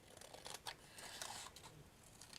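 Scissors cutting fabric ribbon for a French couture ribbon patch, a quiet close series of soft snips and crisp rustles with no voices.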